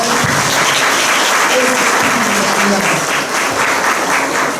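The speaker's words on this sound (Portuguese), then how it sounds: "Uma salva de palmas por aquela criança ali, né?" A church congregation applauds for a child during a service, a dense, steady wash of clapping that fills the whole stretch at close range without a break.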